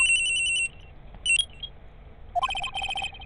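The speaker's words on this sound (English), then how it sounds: "At around 10:30, I received a call on my cell phone." A cell phone rings in the Ace Attorney video game: a bright electronic ringtone trills in short repeated bursts, pauses, then resumes with a longer run of beeping chirps, alone and fairly loud.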